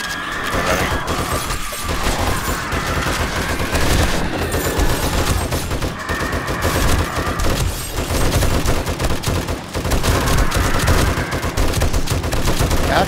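Automatic machine gun traps firing nonstop at a zombie horde in the Darkness Falls video game, a dense loud clatter of gunfire filling the whole stretch with constant crashes and impacts.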